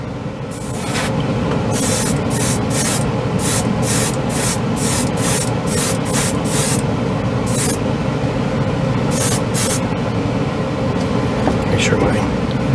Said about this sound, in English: Mixed up in the airbrush onto the spoon.